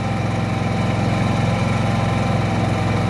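A Senci SC 9000 i inverter generator engine runs steadily at full power on first start, a continuous buzzing drone with a fast, even pulse, close by and loud.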